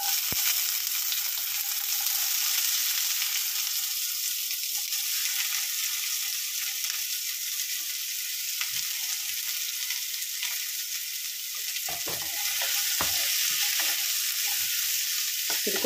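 Chopped onion and capsicum sauté in oil in a pan, giving a loud, steady hiss of frying throughout. Occasional soft scrapes of stirring come through near the end, and no voices are heard.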